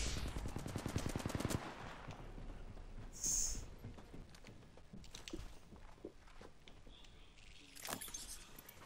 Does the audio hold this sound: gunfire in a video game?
yes